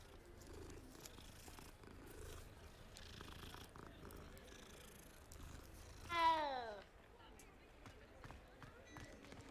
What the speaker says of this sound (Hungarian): Szia, másfajta cica.